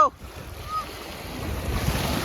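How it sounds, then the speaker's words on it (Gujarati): Sea waves rush and roll in a low, swelling roar, with gusty wind buffeting the microphone. "આવી રીતના કંઈક મોજા આવે છે"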